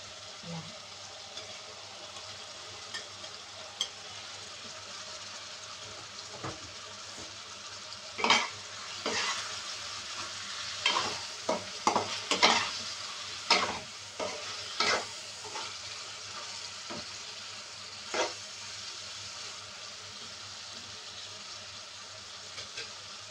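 Shrimp stirred in a pan for Bicolano laing, with a low steady sizzle and scattered sharp utensil scrapes and clinks against the pan mid-clip, fairly quiet overall.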